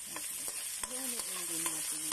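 Ginger and garlic frying for chicken caldereta, a steady sizzle with stirring clatter of a spatula against the pan, close and continuous, with no talking.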